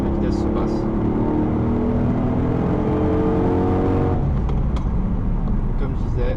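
A Dodge Charger RT accelerates at full throttle, its engine note climbing steadily before a gear change near the end drops the pitch. Someone talks over the loud, continuous drone from inside the car.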